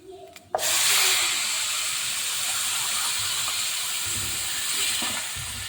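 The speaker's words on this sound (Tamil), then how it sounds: "இப்படியே தண்ணியை ஊற்றிக்கலாம்" Water poured into a pan of hot roasted semolina (rava) for corn upma sets off a sudden loud sizzling hiss of steam that holds steady for several seconds, then eases slightly, with faint clinks of utensils.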